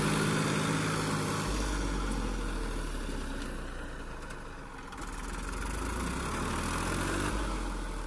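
A Massey Ferguson 241 tractor engine runs steadily in first gear, a continuous close, loud diesel drone that dips slightly mid-way and then recovers.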